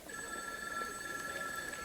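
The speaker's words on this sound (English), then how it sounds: "That's my phone." A telephone bell rings steadily and continuously for the whole stretch, a bright repeating electronic trill at moderate level with no talk over it.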